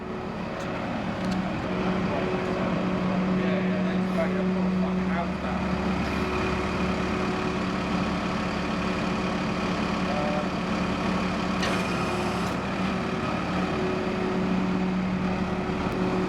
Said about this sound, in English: Just loading it up on Big Gary's recovery truck